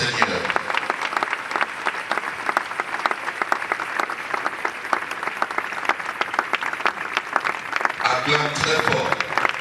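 A church congregation gathered after a funeral applauds loudly and steadily, dense clapping filling the whole stretch, with a voice and crowd sounds rising near the end.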